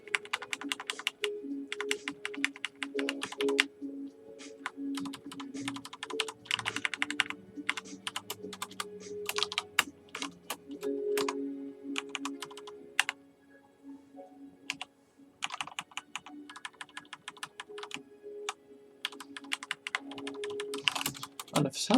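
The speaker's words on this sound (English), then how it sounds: "if it sounds like I'm just repeatedly tapping my keyboard, it's because I am" A computer keyboard is tapped rapidly and repeatedly while playing the online game DarkAges, with bursts of quick, close clicks separated by short pauses over a faint background hum and music-like tones.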